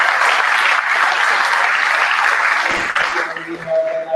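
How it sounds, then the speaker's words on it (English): A crowd applauding loudly and steadily throughout, a dense wash of clapping with faint voices underneath. "we have a huge round of applause for VK, ladies and gentlemen"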